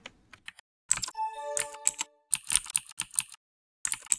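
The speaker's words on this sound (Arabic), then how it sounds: "ده صوت الكيبورد بتاعتي القديم" Simulated old mechanical keyboard typing from the Mechvibes app, crisp clicking keystrokes in irregular bursts with short pauses, close and clear, with a brief ringing tone partway through and no talking.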